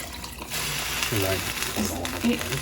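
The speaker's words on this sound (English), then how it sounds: "So he's gonna put in the 5 cups of beef stock." Beef stock is poured from a container into a pot of oxtail soup with onion, celery and garlic, a soft steady splashing and gurgle lasting a couple of seconds with low kitchen noise around it.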